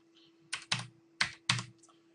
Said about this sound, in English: So what I'm going to do now is type in our greeting